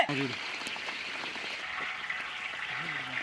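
Steady, dense hiss of rain falling on a surface at an outdoor village cooking spot, with a brief voice at the start and again near the end.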